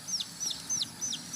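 Four quick, high, downward-sliding clucking calls from a young Sumatran red junglefowl chick, evenly spaced and fairly faint, against a quiet background.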